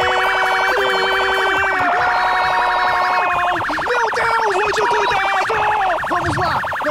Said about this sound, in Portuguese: Sirene!